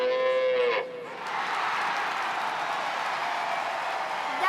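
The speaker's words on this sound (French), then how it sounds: "il y a des meux par là, il y a des meux par ici, des meux par là" A cow lows once near the start of a French children's farm song about hundreds of cows, a drawn-out bellow with a rising tail, then a steady, noisy backing wash fills the rest.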